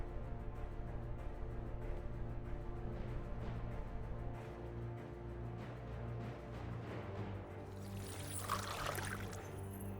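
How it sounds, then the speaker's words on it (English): Liquid poured from a magic crystal in the Final Fantasy XVI video game, a soft trickling splash rising near the end over a steady, humming musical background. "Did they just use that crystal to pour a drink?"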